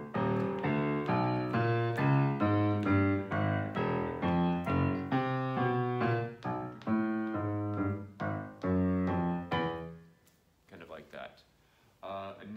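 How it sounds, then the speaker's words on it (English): Jazz piano with the left hand playing a walking bass line of steadily stepping notes under chords, like a string bass in a jazz combo, ending with a few scattered quieter notes. "my left hand is doing this kind of walking bass"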